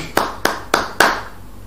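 Hand claps from a congregation at a Christian worship service, four sharp evenly spaced claps about a quarter second apart, fairly close and loud, no voices.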